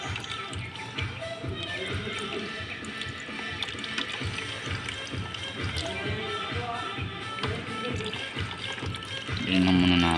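Water-contaminated fuel drains from a motorcycle tank in a continuous splashing, trickling stream, with faint talking underneath and a louder burst near the end.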